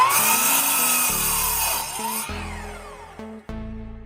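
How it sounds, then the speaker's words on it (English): Power saw cutting a 16-foot Trex composite deck board to length, a loud whining blade that changes pitch as it bites and slows through the cut, then drops off near the end. "Then I cut it to length."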